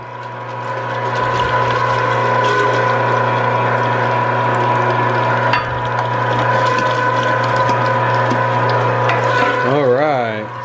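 An electric food grinder runs steadily, grinding cut squash for tegu food; the motor drones with a low hum and mechanical whine for about ten seconds, then winds down at the end.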